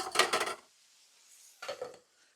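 Pots, pans and a lid clatter near at hand as someone reaches into a kitchen cabinet while cooking, with a loud burst of rattling, a brief pause, then a second shorter clank.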